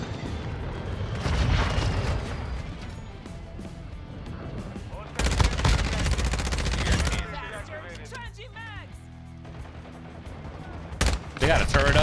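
Rapid turret gunfire and other weapons crackle loudly through a Call of Duty match on the Shipment map, in dense overlapping bursts that swell in the middle and again near the end, with game sounds mixed in.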